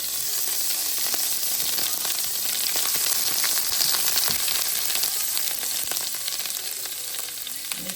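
Butter melts in a hot pan for a sauce, sizzling and crackling steadily at close range with fine popping bursts throughout and no voices.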